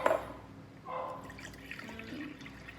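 Distilled water pours into a container for a homemade cleaner, a liquid gurgle and trickle with a brief splash at the start, fairly close and moderate in level.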